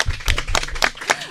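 An audience at a public broadcast of a Korean poetry programme applauds, a brief burst of several hand claps in quick succession.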